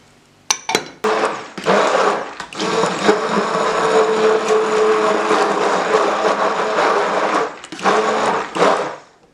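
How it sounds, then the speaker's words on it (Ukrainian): An immersion blender whirs steadily through cream with butter and gelatin for several seconds, starting and stopping in short bursts at the beginning and end, loud and close. "і пробиваємо це все блендером."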